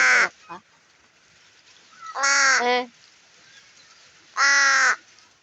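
A crow caws in a backyard, three harsh, loud calls: a short one at the start, a doubled call midway and a final one near the end, with quiet gaps between.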